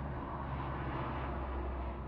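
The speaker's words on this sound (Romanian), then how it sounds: "dar asta ce face pe aici avionul ăsta?" A propeller airplane in Farming Simulator 17 drones steadily overhead, a loud, continuous broadband engine roar filling the whole stretch with no break.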